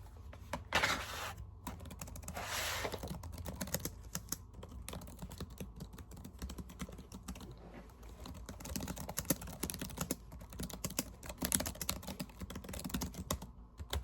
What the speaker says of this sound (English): I'm just gonna write this down really quick with my keyboard.